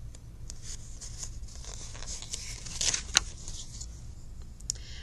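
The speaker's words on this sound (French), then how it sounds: "Il ne fait que chiffonner des feuilles de papier." Paper crinkles and crumples in soft, irregular bursts, with a few sharper crackles near the middle, heard close and alone.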